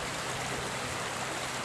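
Floodwater rushing past a storm-damaged street bridge after heavy rain, a loud, dense, continuous roar of flowing water with no pauses.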